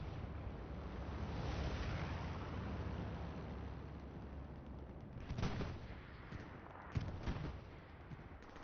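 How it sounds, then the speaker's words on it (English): Artillery fire booms in a multiplayer World War style match, a low continuous rumble of distant barrages with a couple of sharper, nearer blasts toward the end; no voices. "The artillery fire from the American side is very precision."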